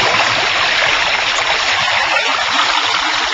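A thin trickle of river water, the minimal ecological flow left after diversion, babbles and rushes steadily at close range with no other sounds.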